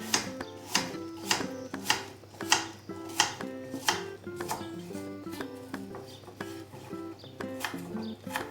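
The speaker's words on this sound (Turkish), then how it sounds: "Bu şekilde doğruyorum ve içine atıyorum" Peeled apple diced into small cubes for aşure, a steady run of sharp knife taps on a cutting board, close and distinct, over a constant low background hum.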